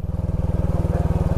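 A motorcycle engine throbs close by with a steady, rapid low pulse on a village road in Barcelona, Sorsogon, Philippines, loud and continuous without fading away.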